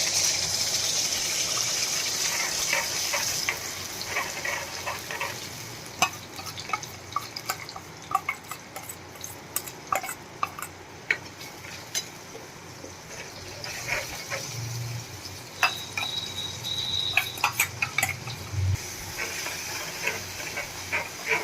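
Spice paste for Kathiyawadi bhungla bataka sizzles in hot oil, a near steady hiss punctuated by sharp sputtering pops and crackles, with no talk.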